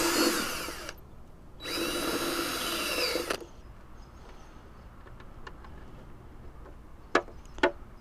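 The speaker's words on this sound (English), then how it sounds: "Now I got to jump over to our step bit, and this says it needs to be drilled to 11/16" A step drill bit bores a hole on a Ruckus scooter in two whining bursts of about a second each, followed by quiet with a few faint ticks and two sharper clicks near the end.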